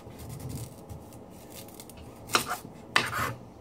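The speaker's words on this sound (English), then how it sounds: "I'm just gonna cut it up so it won't take too long to cook" A knife cutting raw yam into chunks for soup: quiet rubbing and scraping, then two sharp, distinct cuts close together near the end, heard alone at close range.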